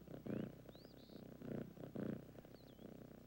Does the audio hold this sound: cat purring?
yes